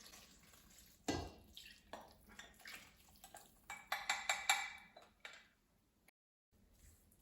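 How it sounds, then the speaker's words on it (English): Liquid ingredients for a Christmas plum pudding pour into a bowl of dry ingredients, making soft splashing and trickling with a few light clinks against the bowl, then a brief pause and a faint drip. "we're pouring it into our dry ingredients"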